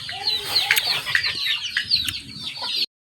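Chickens on a simple countryside homestead cluck and call steadily at close range, with overlapping squawks and a few sharper cries throughout, and no one talking.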